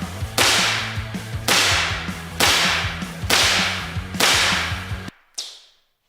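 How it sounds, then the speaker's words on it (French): Five loud, sharp cracks from small pistol pellets fired at a painted door come at roughly one-second intervals, each followed by a brief decay, with a quieter sixth impact trailing off at the end. "5 coups seront tirés sur chaque porte"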